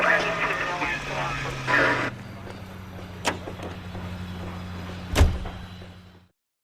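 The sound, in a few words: car being driven in the video game L.A. Noire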